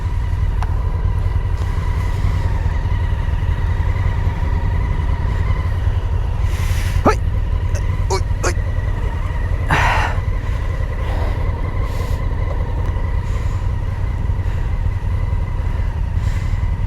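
A brand-new Kawasaki H2 SX SE motorcycle being ridden, with a loud, steady engine and wind drone that barely changes, plus a few brief clicks and knocks near the rider.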